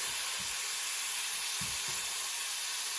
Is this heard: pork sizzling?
yes